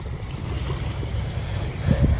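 A cargo trawler carries goods along the Meghna river, its low engine rumble steady beneath wind buffeting the microphone and the wash of water, with a slightly louder surge near the end.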